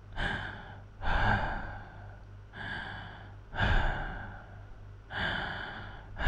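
A voice imitates slow, sleepy breathing up close, with soft airy inhales and exhales repeating in an even rhythm about every two seconds, alone and intimate.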